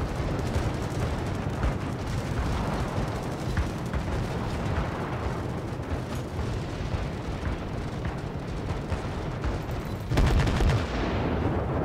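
Anti-aircraft guns on a warship firing at planes in World of Warships, a dense continuous rumble of overlapping gunfire and shell bursts with a louder blast near the end, no talking.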